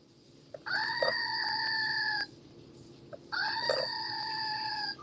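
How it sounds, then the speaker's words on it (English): Two long, steady bleats from a goat, each lasting about a second and a half with a short gap between, loud and strained, with a faint background. "goat sounded like it's drowning"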